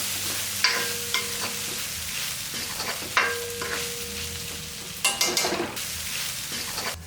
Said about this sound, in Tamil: தேங்காய் போட்டு ஒரு பிரட்டி விட்டுடலாம்